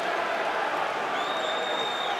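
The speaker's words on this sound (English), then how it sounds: "The crowd are very unhappy" A rugby stadium crowd at Northampton Saints against Scarlets sends up a dense, constant roar of disapproval, with whistles heard within it. It holds at a steady level for the whole stretch.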